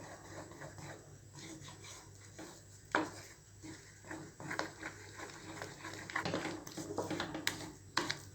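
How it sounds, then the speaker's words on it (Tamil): A spoon stirring thick jackfruit halwa in a pan makes soft, continuous scraping and rubbing, with a few sharper clinks against the pan, close and fairly quiet. "நல்லா கண்டினியூஸாக கிளறி விட்டுட்டே இருங்க"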